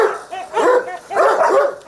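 A mongrel dog with shepherd ancestry barks at an animal shelter, giving a few loud, close barks in two bursts with whiny yelps between them.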